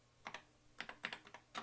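Keys clacking on a computer keyboard while a command is entered in the TRS-Box folder, a handful of sharp taps in quick irregular bursts, close and fairly quiet with no talking.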